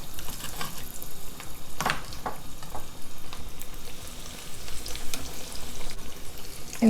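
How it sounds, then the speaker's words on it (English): Big fish pieces frying in reused oil at low to medium heat, a steady close sizzle with crackles and a few spatters throughout and no speech. "Use the same oil to fry the fish. I'll put the big pieces first."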